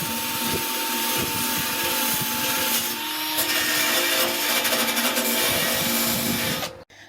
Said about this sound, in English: John is attacking the rust with his power drill and wire brushes.